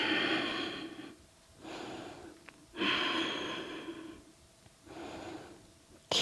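Slow, deep breaths during a yoga chest-opening pose, heard close and alone as rhythmic inhales and exhales separated by short pauses.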